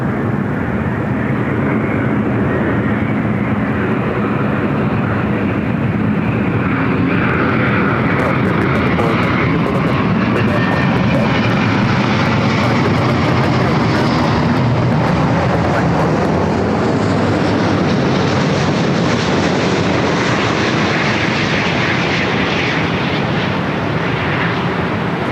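Jet airliners at Los Angeles LAX airport, a loud, continuous roar of engines that swells and slowly shifts as a plane moves past, with faint talk underneath.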